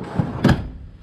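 A drawer in a ute drawer system on a D22 Navara slides and stops with a single solid thunk, close and fairly loud, with no talk.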